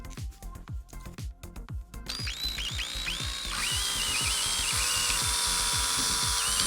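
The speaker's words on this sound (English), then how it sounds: "with a drill bit the same size as the straws to make the holes through the bottle caps" A power drill bores holes through plastic bottle caps, sounding as a steady close whirring drone that rises in pitch partway through, with rapid ticking bursts at the start.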